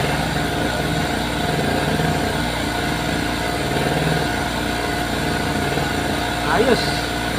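Oshima portable electric generator engine running steadily close by, a constant buzzing motor drone with no letup, a brief faint clatter near the end.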